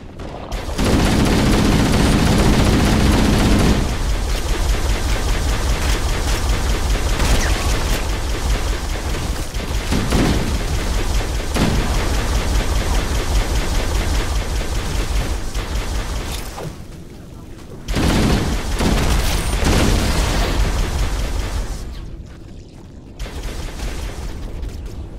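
Shotgun fire in Halo: Combat Evolved co-op play, a dense, loud and continuous barrage of blasts and booms that drops off briefly near the end before resuming.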